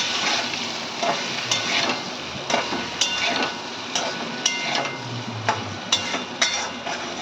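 Salt and turmeric coated boiled potatoes frying in hot oil in a kadai, with loud, close, continuous sizzling and regular sharp clinks of a spatula stirring, no talking.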